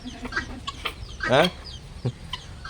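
Turkeys calling in a village, with a few short clucking and gobbling bursts at close range and one louder warbling call near the middle, over a faint outdoor background.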